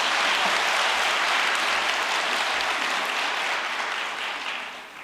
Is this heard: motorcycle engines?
no